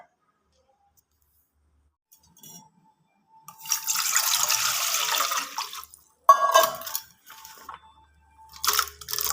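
Chopped raw plantain dropped into salted water, a burst of splashing and sloshing with a second sharp plop and later brief clatter, no talk.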